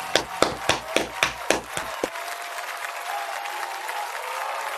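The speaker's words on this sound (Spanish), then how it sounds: "Hasta yo le voy a aplaudir." Brief applause after a singing performance in a televised talent contest final, a few loud distinct claps close by that quickly fade into a soft, steady background hiss.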